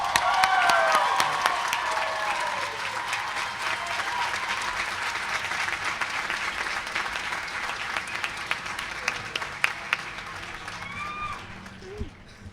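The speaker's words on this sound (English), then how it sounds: "please join me with a round of applause and congratulate them" Sustained audience applause at a graduate commencement ceremony, honoring international graduate students, loud and dense at first, then gradually tapering over about twelve seconds, with a few scattered whoops rising near the end.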